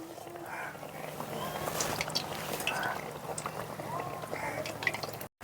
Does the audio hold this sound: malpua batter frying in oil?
yes